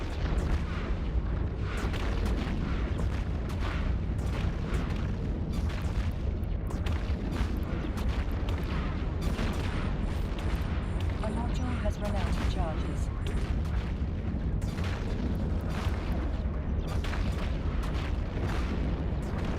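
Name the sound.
ships opening fire in the video game EVE Online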